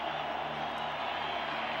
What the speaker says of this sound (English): Crowd getting into the act again as Stewart tries to call his play.